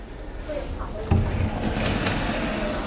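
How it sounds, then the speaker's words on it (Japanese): A tall sliding partition door in a hotel king room is pulled shut, giving a single short thud and rumble at about one second, with a quiet room hum underneath. "あの間仕切っていただくことが、このようにねできます。"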